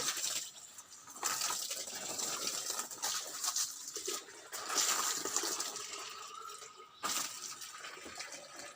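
Water filling while a water pump machine runs, a rushing, splashing flow that swells and drops in uneven bursts at a moderate distance.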